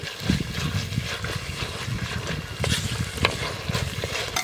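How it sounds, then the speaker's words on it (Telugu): Ginger garlic paste frying with onions in a pan, busy sizzling with rhythmic scraping and thumping of a spoon stirring close by, no voices. "ఈ అల్లం వెల్లుల్లి పేస్ట్ పచ్చివాసన పోయే వరకు కలుపుకోవాలి"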